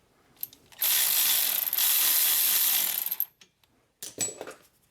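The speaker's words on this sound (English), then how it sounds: "So now let's get the brake caliper removed." A ratchet wrench loosens the brake caliper bolts on a Chevy Impala during a front wheel bearing job, giving a fast, loud, continuous clicking run of about two and a half seconds, then a short second burst of clicks after a pause.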